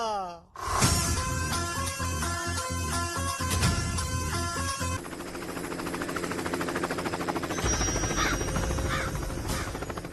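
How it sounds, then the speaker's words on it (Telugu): A helicopter flies low over a village in a scene from the Telugu film Loafer. Its loud rotor chop and engine drone fill the scene, with a pulsing rhythm, steady and close, and a crow caws in the background. "మన ఊర్లో హెలికాప్టర్ ఏంట్రా"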